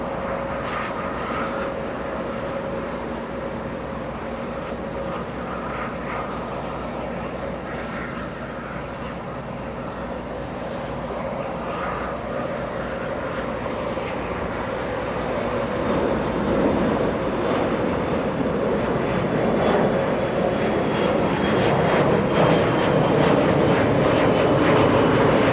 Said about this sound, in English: we have a 777 freighter